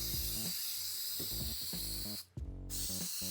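A spray can lays a long, steady hiss of Plasti Dip onto car window trim, holding close and loud with a brief break near the end, over a faint low rhythmic rumble.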